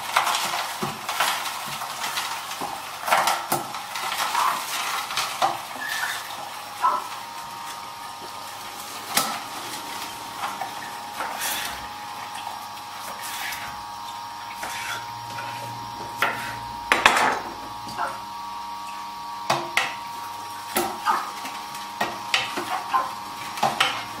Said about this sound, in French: Il ne faut pas pousser, il faut juste accompagner le légume parce que sinon on risque de casser son appareil.